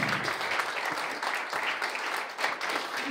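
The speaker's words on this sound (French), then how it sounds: "un tonnerre d'applaudissements à tous ceux qui ont organisé la conférence" Applause from a conference audience at a closing keynote, honoring the event's organizers; dense, steady clapping from many hands fills the short moment at a moderate, even level.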